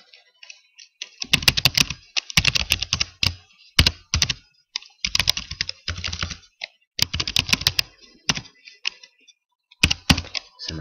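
Close, crisp typing on a computer keyboard while entering Verilog test bench code, in rapid bursts of keystrokes separated by short pauses.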